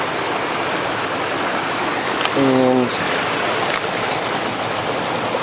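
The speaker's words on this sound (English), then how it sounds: "So we're at the creek." A creek on a hike up Mt Williamson flows with a steady, full rushing wash, and a brief tonal call or squeak cuts in partway through while a voice says a single word.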